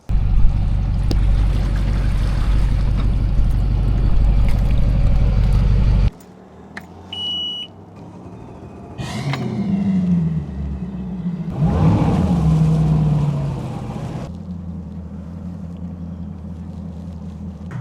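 Bass boat outboard motor running during a test ride on the water, a loud steady engine rumble that cuts out abruptly, followed by quieter idling, splashing and a renewed drone.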